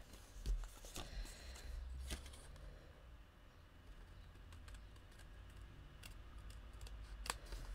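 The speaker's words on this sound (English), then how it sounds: "So I'm going to cut it fairly close" Scissors cut closely around a stamped image on a handmade card, producing a few soft, crisp snips and light clicks in an otherwise very quiet room.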